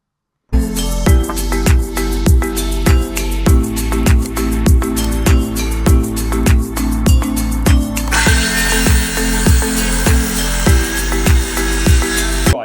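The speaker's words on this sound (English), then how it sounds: "we're going to get some timber cut across the floor for our base plate, sole plate" Timber being sawn for the sole plate of a stud wall: a close, loud rhythmic saw with about two strokes per second that brightens and grows harsher partway through, no talk.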